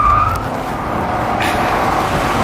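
Chevrolet Corvette C6 with poor suspension taken fast through a corner, a loud, close engine roar with tire scrub and a squeal, continuous throughout.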